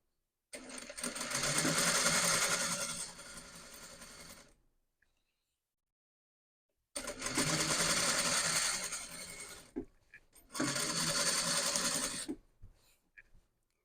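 An electric sewing machine stitches a blouse neck piece in three bursts: a long whirring run, a pause of silence, then two shorter runs close together, ending with a few faint mechanical clicks.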